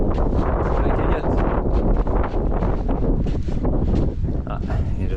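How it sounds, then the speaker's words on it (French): Strong wind buffets the microphone in the Kolmanskop ghost town, roaring and gusting loudly and continuously with rough, rumbling bursts from start to finish. "Il y a toujours du vent."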